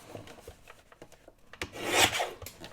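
Rasping, rubbing strokes of trimming the edges of a paper pocket, a run of short scratchy cuts that swells into a louder stroke near the end, heard up close with no talk.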